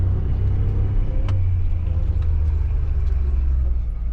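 A Kawasaki Mule or John Deere Gator 835R utility vehicle coasts under dynamic engine braking, its engine holding a steady, loud low rumble close by with faint mechanical ticks, no talking.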